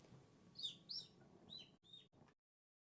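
Whistled imitation of a bird call, a few short rising-and-falling chirps in separate bursts, close and fairly clear over a faint low hum, then abrupt silence.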